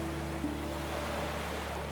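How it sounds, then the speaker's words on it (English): Wind presses against an old glass window of a lighthouse above the Atlantic in the Faroe Islands, a steady, insistent low rushing hiss that stays faint and even throughout, with no voices. "You can hear the wind."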